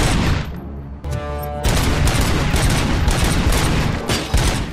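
Loud, close gunfire in the RoboCop: Rogue City game: dense overlapping shots and impacts, a brief lull with a ringing tone, then continuous heavy firing for several seconds.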